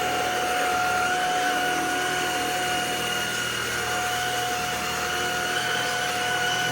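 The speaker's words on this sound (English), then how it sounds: "Get the vacuum." A Klarpul 580W cordless stick vacuum runs over a rug with a constant, loud motor whine and a steady high tone that holds throughout without a break.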